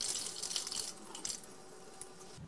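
Water runs from a tap in a steady broadband stream, a close, continuous hiss with slight splashing variations and no talk.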